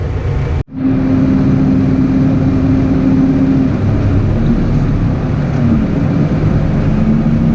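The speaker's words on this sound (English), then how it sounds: "Tractor and trailer." Tractor towing a trailer during a potato harvest, its engine droning steadily and close, with a low hum and a faint rising tone after a brief cut at the start.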